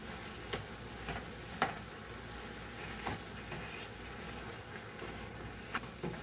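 Boiled potatoes, tomato and eggplant fry on a hot tawa for chokha, giving a steady soft sizzle with scattered light clicks and taps of stirring, close and moderately quiet, no talking.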